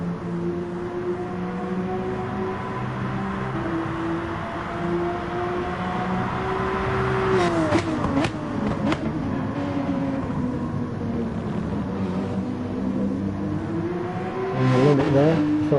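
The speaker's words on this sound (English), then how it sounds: "revving the car right out to as far as I could" Race car engine in a racing video game at the Catalunya circuit, revved hard and held high with gear changes and pitch dips, loud and continuous under steady engine drone.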